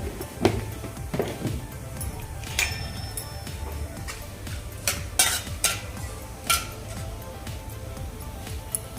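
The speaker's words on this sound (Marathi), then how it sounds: "राई जी आपलं फुललं आहे" Cumin and mustard seeds frying in hot oil for a brinjal-potato bhaji, with a steady close sizzle, scattered crackling pops and occasional utensil clinks against the pan, no talking.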